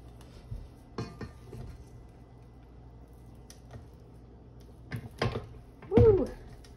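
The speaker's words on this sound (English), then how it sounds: "pause that real quick and scrape down the sides of my mixer" A spatula scraping down the sides and bottom of a stand mixer bowl of royal icing, with scattered knocks and clinks, then louder scrapes and a sharp clatter toward the end.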